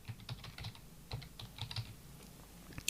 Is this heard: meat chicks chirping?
no